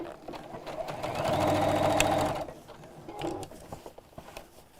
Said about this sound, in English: I'm pushing all of this fabric out of the way as I'm sewing.